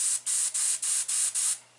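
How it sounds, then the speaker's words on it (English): An airbrush sprays white base paint in six short, evenly spaced bursts of close, steady hiss, then falls quiet. "I've got a base white already in the airbrush"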